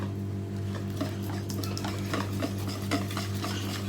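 A batter of egg whites and yogurt is stirred in a bowl, with soft repeated clicks and scrapes over a constant low hum.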